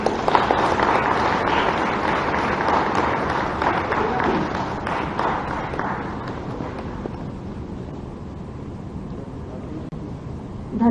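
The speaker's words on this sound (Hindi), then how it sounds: "कृपया जोरदार तालियां हो जाए" A large audience applauds at a government function in Bhopal, a dense, steady clatter of many hands that fills the room, then gradually thins and fades toward the end.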